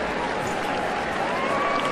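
Tennis crowd cheering and roaring excitedly in a stadium, a loud, steady wash of many voices with no gaps, sustained throughout.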